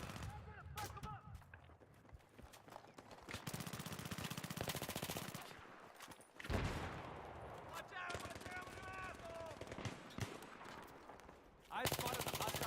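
Rapid machine gun bursts and scattered gunshots in Battlefield 3 on PS3, dense and loud through most of the stretch, with brief pauses and a fresh burst near the end, layered over game voices and battle noise.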